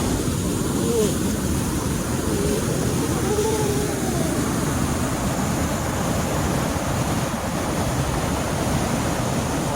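Steady, broad rushing of falling water fills the whole stretch, loud and unbroken like a powerful waterfall nearby.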